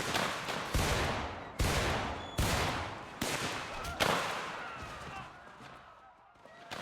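Musket volleys crack out in Mount & Blade Warband, set in the American Civil War: four or five loud, sharp broadband shots land at roughly even intervals, each trailing a short rumbling decay, followed by more ragged scattered firing.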